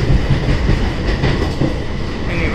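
Pune–Veraval Express passing close by on the rails near Khandala ghats, a loud, dense rumble with rapid clickety-clack of wheels, heard without voices.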